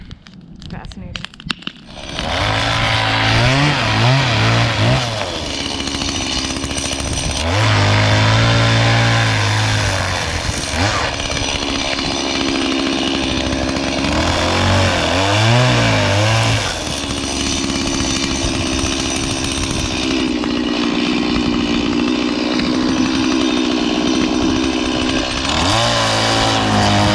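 A chainsaw cuts wood for a winter bonfire outdoors, revving loudly in repeated surges as it bites into logs and easing back to a rough idle between cuts, continuing steadily throughout.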